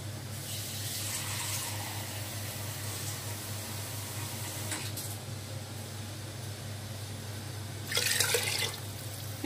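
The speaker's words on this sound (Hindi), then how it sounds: "तो मैं थोड़ा सा पानी और डालूंगी।" Steady running water pours into a pressure cooker of khichdi for several seconds, with a brief louder splash near the end; no talking.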